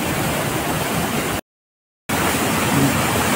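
Constant rushing roar of falling water at Nalkund waterfall near Buldhana, loud and close, cut by a brief dropout of silence midway before the same dense wash resumes.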